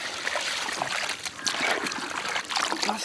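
Plain water is poured from a vessel into a pot of village-style mutton curry, an uneven trickling splash that surges and eases over a few seconds, close by and with no speech.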